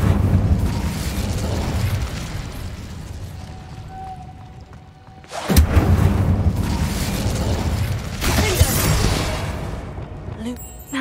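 Incendio fire spell cast in Hogwarts Legacy: a sudden loud burst near the middle that cuts through a dense, rumbling game soundscape, with a second swell of crackling energy later on and speech in the surrounding mix.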